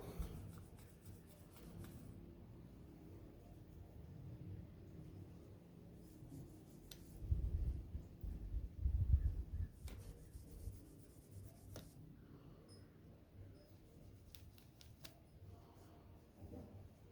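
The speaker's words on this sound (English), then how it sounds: "now I'm going to clean these things out with a pipe cleaner" A pipe cleaner scrubs out small holes in SRAM X01/XX1 mountain bike derailleur parallelogram parts, giving faint, close rubbing and scratching in irregular bursts, with a couple of slightly louder scrapes midway.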